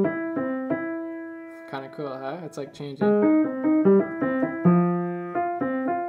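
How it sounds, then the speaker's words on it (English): Piano playing a broken-chord Alberti bass pattern, low, high, middle, high, repeated in steady notes, with a short spoken remark breaking in midway. "That is completely an Alberti bass pattern."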